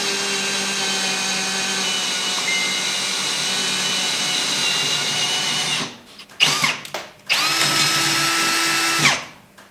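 Steady, loud drilling of steel Nerf bars with a sharp bit on a race car being readied for speedway, the power drill whining continuously before stopping and starting again in short bursts near the end.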